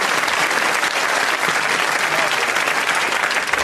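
Dense, steady applause from a studio audience at a comedy panel show, loud and continuous for the whole stretch with no pauses or voices on top.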